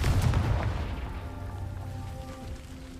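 Confringo fire spell cast in Hogwarts Legacy, a heavy booming burst at the start that decays into a fading rumble with a lingering tonal hum.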